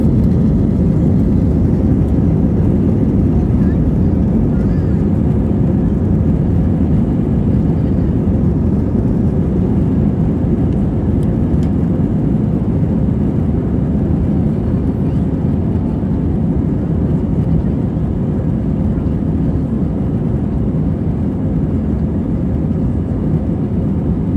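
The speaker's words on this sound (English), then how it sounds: "sounds like we've engaged engines and we are off." Loud, steady low roar of an Airbus A320's jet engines at high power on its takeoff roll, a dense rumble that holds for the whole stretch with no pauses and no voices.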